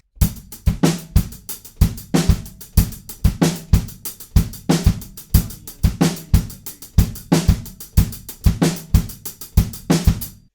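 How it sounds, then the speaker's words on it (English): Drum kit playing a funky groove with kick and snare from a song, crisp punchy hits in a steady busy rhythm with bright cymbal wash, close and alone. "we add the kick drums back in, and they're playing this funky kind of groove"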